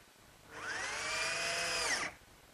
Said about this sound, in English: And I'll fasten it in place using some 1-inch drywall screws.